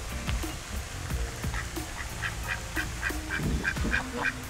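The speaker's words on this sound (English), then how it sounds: "Oh, we found some little ducks." Ducks on the grounds of an all-inclusive resort in Punta Cana, Dominican Republic, giving a run of repeated nasal quacks and honks, mostly evenly spaced, fairly close, over a busy outdoor background with no talk.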